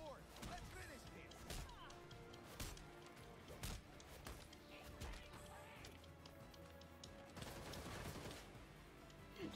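Gunfire from the video game Gotham Knights comes as a faint flurry of rapid shots and crashing impacts, mixed with other game noise throughout.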